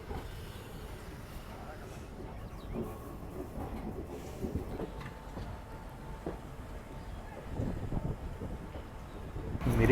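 A train pulls away from Katihar Junction railway station in India, heard from on board as a low, steady rumble with wind noise and faint rattling that builds slightly toward the end.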